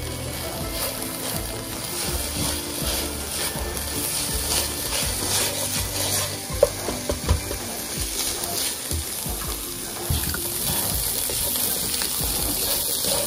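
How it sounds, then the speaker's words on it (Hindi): Ground beef fries on a high flame in a pan, a continuous busy sizzle mixed with scraping and stirring clatter from a utensil, close and fairly loud, with a few sharper knocks midway. "इसे अब हाई फ्लेम पे थोड़ा सा भूनना है"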